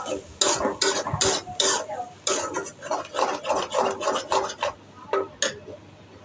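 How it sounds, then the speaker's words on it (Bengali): An egg being stirred and fried in a pan for homemade noodles: close, quick bursts of scraping and rasping strokes against the pan in an uneven rhythm, with light sizzle between them. "তারপর ডিমটাকে ভালোভাবে নাড়াচাড়া করে"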